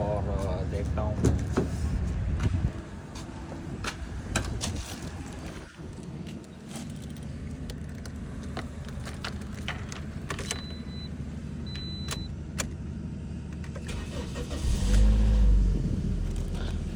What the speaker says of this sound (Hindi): तो अभी स्टार्ट हो गई गाड़ी।